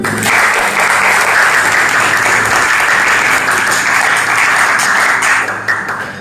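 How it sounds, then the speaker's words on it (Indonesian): A classroom of students breaks into loud, sustained applause for the student groups, dense clapping that carries on for several seconds before tapering off near the end. "berikan aplaus dulu"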